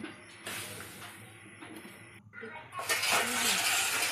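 Garlic and chopped chillies stirred in a cooking pot, with scraping and clinking of a utensil against the metal, quiet at first and then a louder sizzling stretch toward the end.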